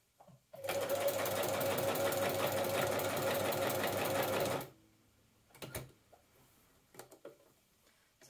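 A sewing machine stitches stretch fabric for a cosplay dress, a close, steady rapid mechanical chatter for about four seconds, then stopping abruptly, followed by faint handling clicks and rustles.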